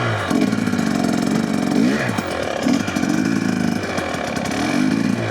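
Motorcycle ridden during low-speed skills practice, engine puttering steadily with small throttle blips and pitch changes, close by and continuous with no talk.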